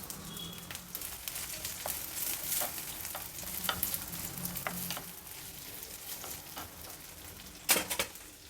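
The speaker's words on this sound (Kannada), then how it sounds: "2 ಈರುಳ್ಳಿ ಉದ್ದುದ್ದಕ್ಕೆ ಹಚ್ಚಿಟ್ಕೊಂಡು ಹಾಕಿದೆ." Sliced onions frying in a pan for a Mumbai street-style hariyali pulao, a soft sizzle under repeated scraping stirs and light clinks of a utensil against the pan, with one sharper clatter near the end.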